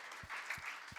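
A congregation at a prayer service clapping in a steady rhythm alongside soft low beats that land roughly three times a second, heard fairly quietly with no talking.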